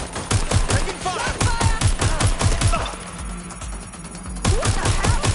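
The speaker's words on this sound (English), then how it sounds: "Taking fire." Rapid gunfire in the video game Watch Dogs: Legion, loud bursts of automatic shots in a fast steady rhythm, pausing briefly midway before resuming, with a faint voice under the clatter.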